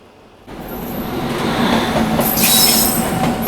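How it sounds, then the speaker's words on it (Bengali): The Aronai Express passenger train rolls in on the rails, a loud, building rumble with screeching wheel squeal and rattling carriages swelling close by. "ঢুকছে আরোনি এক্সপ্রেস।"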